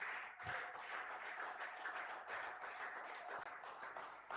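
A French-speaking church congregation at a fasting and prayer gathering claps and acclaims together, a steady unbroken wash of applause and cheering that stays fairly faint and distant throughout.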